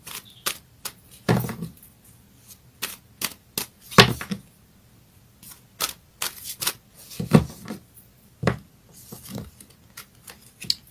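Astrology cards are handled and shuffled in a string of sharp, irregular riffs and snaps, some loud and close. Quiet pauses fall between the bursts.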